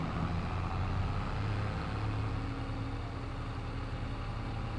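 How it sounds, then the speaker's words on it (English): A tractor engine on a farm at Attingham Park runs steadily at a low rumbling drone, fairly close, with no talk over it. "Tractor's very loud all of a sudden."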